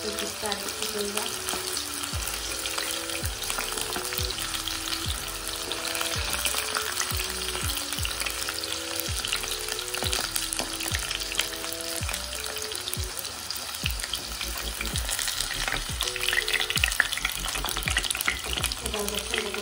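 Hot oil sizzles steadily around frying chicken pieces for a chilli chicken dish, while a utensil taps and scrapes in an irregular rhythm through most of the stretch, all close and fairly even in loudness.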